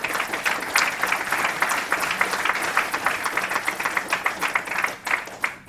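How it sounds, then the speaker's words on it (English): An audience at a sepsis forum on Capitol Hill gives a round of applause, many hands clapping in a lively, slightly uneven rhythm before thinning and tapering off near the end. "So give yourselves a good round of applause."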